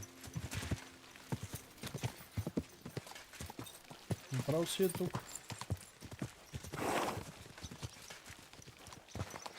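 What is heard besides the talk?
horse hooves clip-clop while riding, video game Kingdom Come: Deliverance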